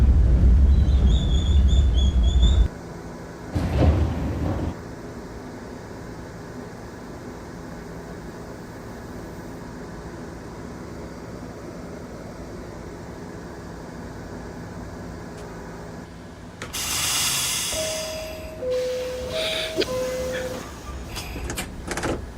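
NYC Subway R68 train doors opening in the OpenBVE simulator game: a low rumble and a brief clunk, then a long steady hum, then a burst of hiss and a few stepped chime tones.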